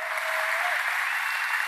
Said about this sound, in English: Let's give him a round of applause so he can hear it.